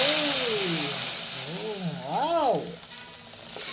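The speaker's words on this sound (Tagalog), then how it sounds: "Igisa na natin ng ating balatong" Garlic, onion and mung beans sizzle in a pan with a close, steady hiss and light stirring, while a voice briefly hums or sings a wavering tune over the frying.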